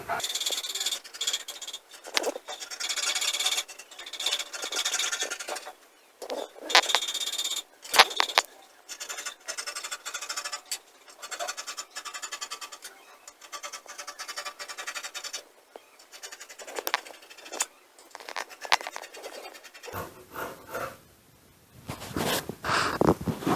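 Scissors cut fabric for a cowl kaftan in a series of soft, close scraping and snipping strokes, with brief pauses between cuts and no voice heard.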